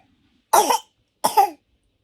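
Two sharp coughs, close and fairly loud, separated by a short pause with quiet in between.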